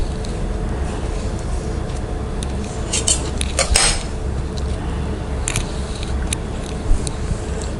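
A knife cuts through sun-dried mango pappad sheets, giving a few sharp clicks and scrapes against a plate over a steady low background hum.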